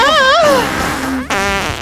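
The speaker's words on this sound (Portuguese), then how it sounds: "você peidou, menina?" A loud, wobbling cartoon fart from the animated show Total Drama Island blares out in two long buzzing blasts, the second rising after a short break, close and prominent with no speech over it.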